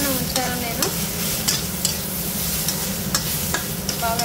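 Chana dal fries in a pan with salt and turmeric for chutney, giving a steady sizzle broken by scraping stirs at regular intervals, close and fairly loud, with no talk.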